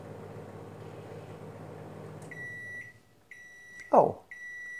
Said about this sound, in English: This is a microwave.